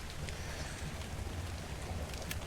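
Steady rain falls in a Minecraft-style survival video game, a constant even hiss with faint drip flecks, alone and without talk.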